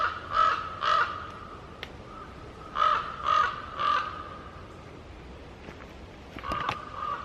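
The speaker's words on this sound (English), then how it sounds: "All those crows just flew overhead." A flock of crows flies overhead near a mountain shelter, giving out two bursts of three harsh caws each, then a scattered final call, clear against a quiet outdoor background.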